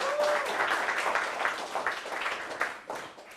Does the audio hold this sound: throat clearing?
no